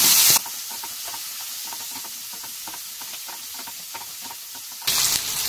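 Curry leaves and green chili sizzle in hot oil in a pan, a busy crackling hiss full of rapid pops that runs steadily, framed by brief louder bursts at the start and end, with no voices.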